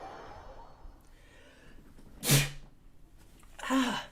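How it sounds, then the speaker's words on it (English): A person close to the microphone gives two sharp, loud sneezes about a second and a half apart against a quiet room background. "The sneeze threw off my headphones."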